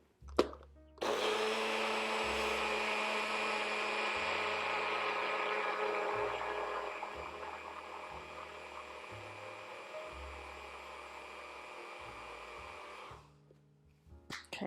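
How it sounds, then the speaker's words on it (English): Ground close up and alone, rolled oats whirl in a NutriBullet blender for about twelve seconds, a steady loud motor whine that starts abruptly and cuts off cleanly. "So I'm just gonna grind it here in my NutriBullet"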